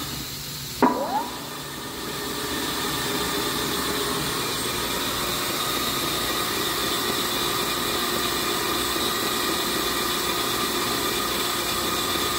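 A 160-ton Stamtec G1-160-S gap frame punch press cycles through a single stroke, giving one sharp mechanical clunk before settling into a loud, steady motor drone and hum that fills the rest of the space without any talking.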